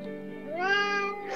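A cat meows once, close and clear, a rising then falling drawn-out call indoors at home, heard alone with no talk over it.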